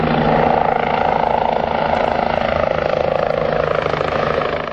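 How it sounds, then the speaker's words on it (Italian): A Sicilian Civil Protection helicopter flies close by, its rotor chop and engine whine loud and unbroken throughout, steady with a slight fade toward the end. "Questo elicottero della Protezione Civile Siciliana trasporta attrezzature e personale dell'Istituto Nazionale di Geofisica e Vulcanologia."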